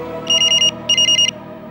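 A telephone rings in two short electronic bursts, each a rapid trill, loud and close, over a faint room hum, with no talk during the ring.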